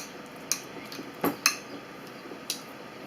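Rosemary essential oil being mixed in a bowl, heard as a few light clinks and taps of a utensil against the dish, spaced irregularly over a quiet background.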